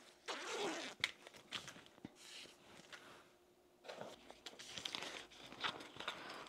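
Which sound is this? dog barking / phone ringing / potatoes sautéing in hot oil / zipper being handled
zipper being handled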